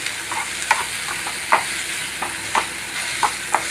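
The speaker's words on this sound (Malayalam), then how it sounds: "നന്നായിട്ട് ഫ്രൈ ആയിട്ട് കിട്ടണം നന്നായി ഫ്രൈ ആവട്ടത്" Egg roast masala fries in a pan with a steady close sizzle, punctuated every second or so by the scrape and clack of a spatula stirring.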